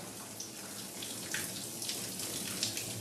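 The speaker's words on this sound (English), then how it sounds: "I'm gonna rinse out her eyes, just in case soap did get in her eyes." Tap water running steadily while a dog is rinsed after a bath, a continuous close splashing hiss with small irregular spatters, no voices.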